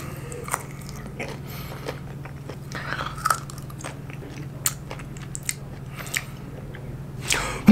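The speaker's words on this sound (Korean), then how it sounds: "근데 이 오리 혀가 엄청 쫄깃쫄깃해요." Boiled duck tongue is chewed close to the mic in a steady run of soft, wet, slightly crunchy bites and squishes, with a low hum underneath and no talking.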